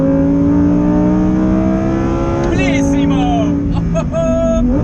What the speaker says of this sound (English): there's your revs in your V10